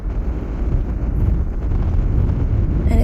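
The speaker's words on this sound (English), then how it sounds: "Can you hear the wind?" Strong, cold wind sweeps across Karola Glacier in Tibet near Yamdrok Lake, a steady low roar buffeting the microphone throughout and building slightly toward the end, with no talking.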